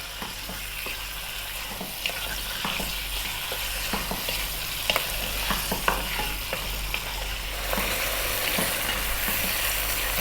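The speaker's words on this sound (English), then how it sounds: "we're going to throw this around in the pan, stirring it constantly just for 3 to 4 minutes" Beef seasoned with black pepper sizzles steadily in a hot pan over medium-high heat, with a constant broadband hiss and scattered sharp scrapes and clicks as the meat is stirred and tossed; no talking.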